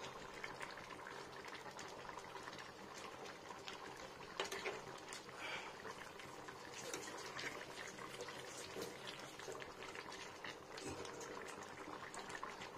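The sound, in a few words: egg and pointed gourd curry simmering in pan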